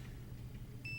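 A multimeter gives a short, faint continuity beep while probing a Nintendo 64 Rumble Pak circuit board, a single thin electronic tone near the end over a low background hum.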